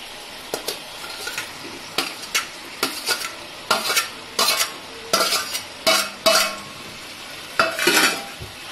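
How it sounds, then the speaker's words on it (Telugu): Fried raw banana pieces being stirred into a thick curry gravy in a pan, with a run of scraping, squelching stirs in irregular bursts, close and fairly loud, and no talking. "ఆ గ్రేవీ మొత్తం దీనికి అతుక్కునేలా బాగా కలుపుకోవాలి."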